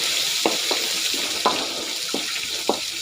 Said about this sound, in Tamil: நல்லா அந்த பூண்டு ஃப்ரை ஆகுது